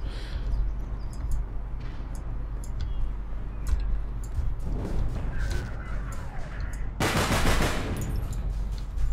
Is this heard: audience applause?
no